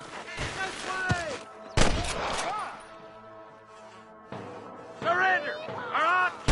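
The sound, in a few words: gunfire in Red Dead Redemption video game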